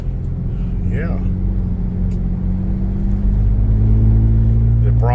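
A Ford Bronco drives over rough, bumpy back roads, its engine giving a steady low rumble that swells slightly toward the end, with brief voices talking over it.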